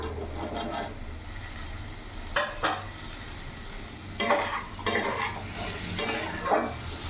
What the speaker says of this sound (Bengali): কিছুক্ষণ নাড়াচাড়া করে কষিয়ে নেবো